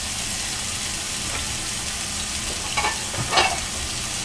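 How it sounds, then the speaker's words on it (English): Lamb blade chops sear in a hot pan with a steady, close broadband sizzle, joined near the end by a few brief spits and crackles; no talking. "Our pan's nice and hot, theoretically. We're going to sear our blade chops."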